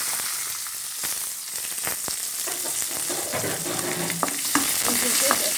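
Chopped onions sizzle and fry steadily in a wok while a utensil scrapes and clacks through them in irregular strokes, close and clear, with no talking.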